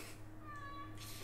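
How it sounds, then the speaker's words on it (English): A cat meows once, a drawn-out tonal call heard alone over a steady low background hum during a Diablo 3 gaming session. "Kitty cat is here."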